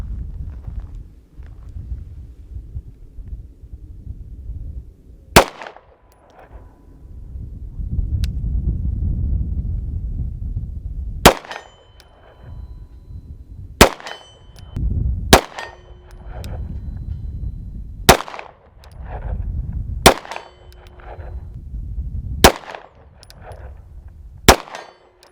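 Sig Sauer M17 pistol fired at a steel target 53 yards away, seven sharp separate shots spaced several seconds apart, each followed by a faint ringing clang, with gusty wind rumbling in between.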